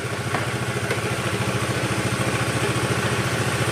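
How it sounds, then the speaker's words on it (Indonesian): A Honda Vario 110 scooter idles steadily close by, its small engine ticking in an even, rapid rhythm, quiet and alone. "Kita nyalakan dulu motornya ya."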